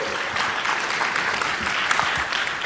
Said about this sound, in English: Another round of applause for Matthias for that wonderful presentation.